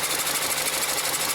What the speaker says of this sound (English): And the engine is still shaking like crazy.